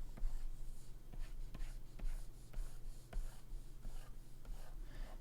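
Pencil sketching on paper, drawing guide lines and a rounded egg shape: soft, close scratchy strokes in short repeated bursts over a steady low hum, with no talking.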